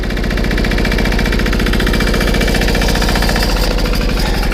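A Petter AC1 single-cylinder diesel engine runs at minimum RPM on a Simplicity M1, a loud, close, steady rapid knocking chug throughout.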